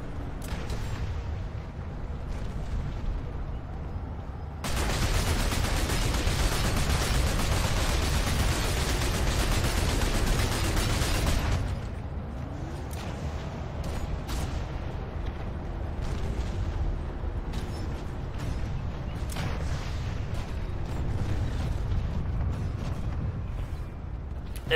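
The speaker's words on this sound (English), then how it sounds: "Go ahead and start shelling them, guys." Artillery shelling and gunfire in the video game Planetside 2, a dense rumbling barrage that surges loud for several seconds, then gives way to scattered distant booms and sharp shots.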